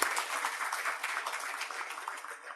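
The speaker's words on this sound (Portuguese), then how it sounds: "Uma salva de palmas também para o nosso professor Ricardo." A lecture audience claps for Professor Ricardo Cavalcante, a dense, even round of applause heard at a distance and fairly faint throughout.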